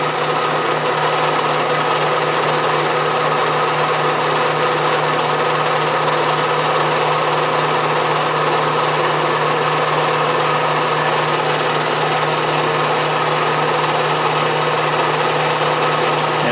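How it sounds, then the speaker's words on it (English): A 6-inch Atlas lathe with compound rest set up for conventional milling, running as a loud, steady motor whine and mechanical hum with even cutting noise throughout, unbroken, without speech. "This is conventional milling in this direction."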